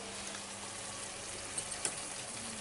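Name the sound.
beer poured over chicken sizzling in pan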